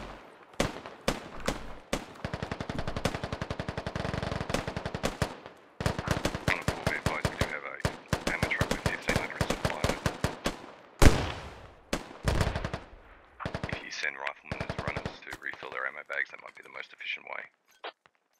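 Rapid bursts of automatic gunfire crackle in the video game Operation: Forest Spider, dense volleys of sharp shots separated by short pauses, with talk over much of it.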